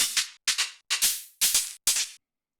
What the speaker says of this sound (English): So the idea is to make them play all in the same time off beat.